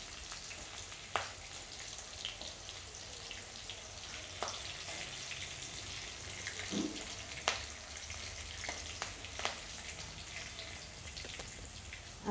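Green chillies sizzle and crackle steadily in hot oil in a kadhai, a continuous frying hiss broken by sharp pops and occasional stirring taps, with no talking.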